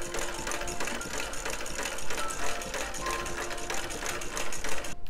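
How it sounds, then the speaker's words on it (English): A Singer sewing machine stitches fabric for a Victorian skirt, its needle chattering in a steady, rapid mechanical rhythm at close range, running continuously with slight surges and no voices. "I'm going to be using my trusted singer again"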